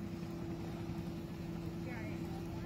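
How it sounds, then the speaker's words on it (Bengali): A speedboat runs on a river in Patuakhali, Bangladesh, its steady engine drone and water rush filling the whole moment at a constant, fairly close level. "দেখো এদিকে স্পিড বোট চলে গেল"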